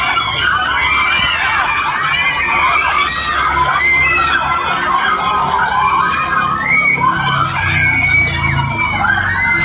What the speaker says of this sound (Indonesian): suara jeritan para santriwati yang tidak tega meramaikan suasana saat melihat HP mereka hancur di tangan mereka sendiri